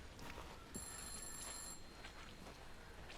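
A telephone rings in an indie horror game set in a fog-covered village: one clear, electronic-sounding ring tone lasting about a second, over a dense, steady game ambience.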